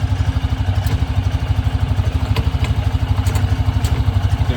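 A Hisun Axis 500 UTV engine runs at a steady idle after a transmission repair, its rapid even thumping pulse loud and close, with a few light mechanical clicks as gears are shifted.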